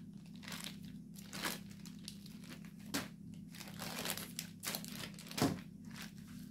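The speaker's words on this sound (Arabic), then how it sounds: "هجيب السكرابر بتاع التورته ده وهبدا اسحب كده." A cake scraper dragged across a plastic bag to pull off soft biscuit dough, giving a series of crinkling, crunchy scrapes in irregular bursts, close and fairly quiet, with no voices.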